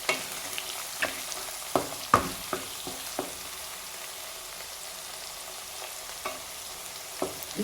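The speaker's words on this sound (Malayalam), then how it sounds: "ഇടയ്ക്ക് ഒന്ന് ഇളക്കി കൊടുക്കണം, എന്നാലേ നമ്മൾ എല്ലാ സൈഡും ഒരുപോലെ വെളുത്തുള്ളിയുടെ ഇഞ്ചി പച്ചമുളകൊക്കെ മൂത്ത് വരത്തുള്ളൂ" Garlic, ginger and green chillies frying in oil for a star fruit pickle, a steady sizzle broken by repeated sharp clicks of a spoon stirring against the pan.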